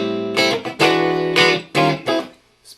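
Bright electric guitar with the pedal bypassed, running through a Marshall preamp: several separate picked chords and notes in an uneven rhythm, close and clear, each ringing briefly and then stopping, with no voices.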